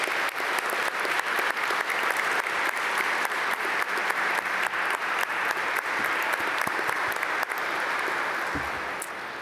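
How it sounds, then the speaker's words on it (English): Graduation audience applauding classmates at a Duke Fuqua management studies ceremony, a dense, loud, sustained wash of clapping from a large crowd that tapers slightly near the end. "Classmates, if you could just give them a quick round of applause."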